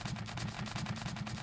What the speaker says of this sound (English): when I hit the fire controls